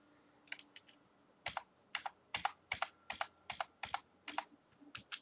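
Someone types on a computer keyboard while writing Android code: about a dozen close, crisp key clicks in short bursts and a single press, quiet and alone in the room.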